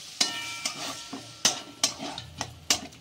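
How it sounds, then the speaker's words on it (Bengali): Spice paste with Kashmiri chilli powder frying in a pan while a spoon stirs it, sharp metallic scrapes and taps recurring every half second or so over a low sizzle, close and without speech. "এবার ভালো করে মশলাটা আমি সুন্দর করে কষে নেব।"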